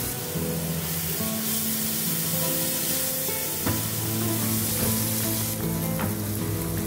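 Tomato and ñora pepper frying in a pan for a Spanish lobster stew, a loud, continuous close sizzle with a hissing spray quality and an occasional clink, with no talking.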